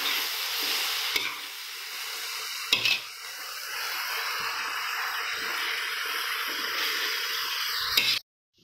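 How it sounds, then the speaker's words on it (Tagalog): Mustard greens sizzle loudly in a hot pan as a utensil stirs and scrapes through them, a steady close frying hiss broken by a few sharp clinks against the pan, stopping abruptly at the end; no one speaks. "So yan, so patuloy po natin ginigisa ang ating mustasa sustansya."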